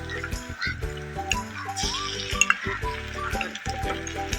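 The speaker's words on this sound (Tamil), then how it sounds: "இப்போ நல்லா வதக்கி விட்டுக்கலாம்." Onions, green chillies and curry leaves sauté in a pan for a roadside-style pattani masala, a steady frying sizzle broken by scraping stir strokes and light clinks, close and moderately loud, with no talking.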